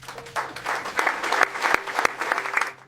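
A crowd applauds at a ship launch ceremony, with scattered sharp claps building into steadier applause and then fading toward the end.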